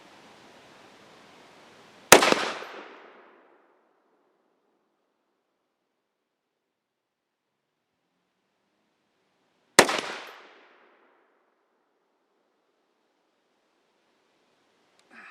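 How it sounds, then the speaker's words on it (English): Two sharp rifle shots ring out about eight seconds apart outdoors during military-style shooting practice, each a loud crack followed by a short decaying echo, with quiet in between. "So we'll set off a couple of shots here and see what's happening."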